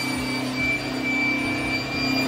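A Cyclo Vac HD7525 central vacuum cleaner running steadily, a close, constant whooshing roar with a thin high whine over it and no breaks, with no voices.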